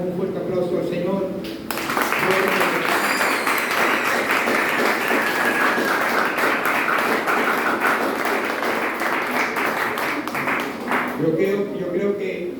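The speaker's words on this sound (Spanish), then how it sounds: "yo quisiera que le brindáramos un fuerte aplauso al Señor." A church congregation breaks into strong, sustained applause during a sermon, with many hands clapping loudly for about ten seconds. A voice speaks briefly before the clapping starts and again as it fades.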